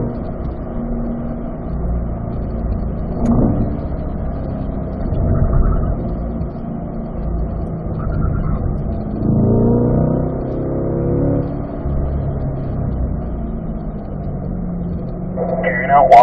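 A Corvette engine accelerates down a race track straight at a performance driving school, heard from inside the car as a muffled, rising drone with a gear change midway, under the near-constant talk of a driving instructor.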